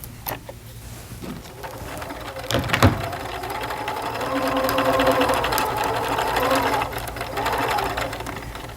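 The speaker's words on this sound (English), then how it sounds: "I'm going to put the needle down in the fabric and turn and come up the end." A sewing machine runs in steady stitching bursts along a fabric belt, pausing briefly at a corner before whirring on, with a voice speaking underneath.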